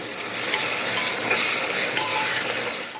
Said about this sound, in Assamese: এতিয়া মই অকণমান পিঁয়াজখিনি ভাজি লওঁ